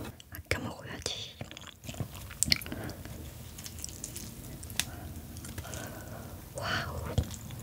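Someone eating butter-grilled and steamed yellow stingray with liver, with soft close chewing and biting sounds, some wet squishes and whispery breaths throughout.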